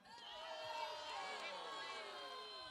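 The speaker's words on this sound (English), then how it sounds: "One more rousing cheer." At ‘Iolani Palace, a crowd lets out one more rousing cheer, a steady, full chorus of many voices held for a few seconds at moderate loudness.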